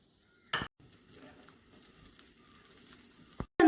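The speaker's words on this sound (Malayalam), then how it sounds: "ഞാൻ ഇവിടെ ഒരു പാൻ അടുപ്പത്ത് വെച്ച് ഫ്ലെയിം ഒന്ന് ഓൺ ചെയ്ത് കൊടുക്കുന്നുണ്ട്. അതിലേക്ക് 2 ടേബിൾ സ്പൂൺ ബട്ടറാണ് ചേർത്ത് കൊടുക്കുന്നത്" Two tablespoons of butter melt in a hot pan on a stovetop with a faint, steady sizzle, broken by a sharp metallic clink near the start and another near the end.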